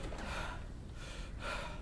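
A character in Drug Dealer Simulator pants heavily, a run of close, loud, breathy gasps and snorts with no talk.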